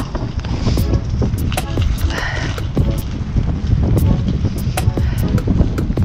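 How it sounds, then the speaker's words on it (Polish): Strong gusting wind buffets the microphone while cycling through the streets of Reykjavik, a heavy low rumble with sharp bursts, close and loud throughout. "O, jaka wichura."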